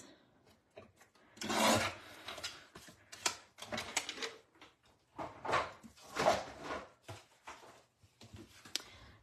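An A2 card base is cut down to size, giving irregular bursts of close, scratchy slicing and rubbing against paper, with short quiet gaps between strokes.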